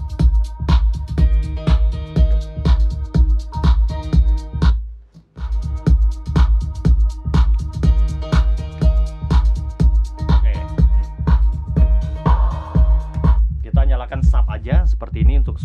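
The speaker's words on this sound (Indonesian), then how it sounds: "Sekarang kita coba ke musik yang ada bass-nya sebentar." Bass-heavy music plays through a Proel 6.5-inch double subwoofer speaker unit in a small indoor room of about three by three metres, with a steady thumping low-end beat, a brief dropout near the middle, then continuing loud and close.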